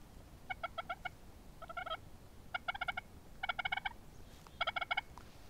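A hunter's turkey call imitates a hen's yelps in five quick bursts of several sharp notes each, evenly spaced, crisp and close over faint outdoor background, with no talk.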